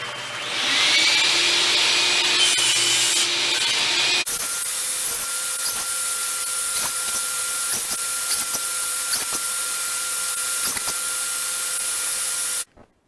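A saw blade set to half-inch depth cuts wood for a mid-century modern plant stand shelf. A different motor sound comes first, then a loud, steady, broadband cutting roar holds for about nine seconds before stopping abruptly.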